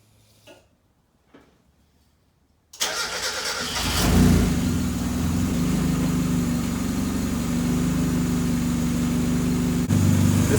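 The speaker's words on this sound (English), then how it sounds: "Let's give it a test start, see what happens." A turbocharged Mazda Miata in a home garage cranks briefly after a few faint clicks, then catches and settles into a loud, steady idle with a rough low rumble, close up and alone.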